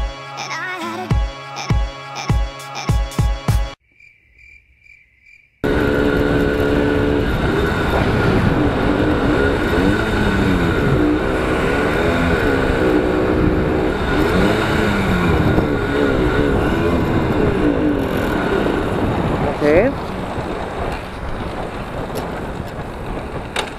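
A Simson moped engine running steadily on the road, loud and continuous for about eighteen seconds with a slight rise near the end, after a short burst of music and a brief quiet gap at the start.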